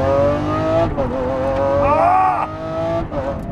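A 2020 Lamborghini SVJ revving hard while being driven, the engine note swelling, dipping briefly, then rising again in a loud, close howl.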